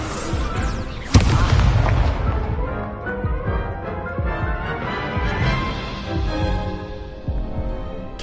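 Incendio fire spell cast in Hogwarts Legacy, a loud whooshing burst around one second followed by crackling, booming effects and lingering rumble through the rest.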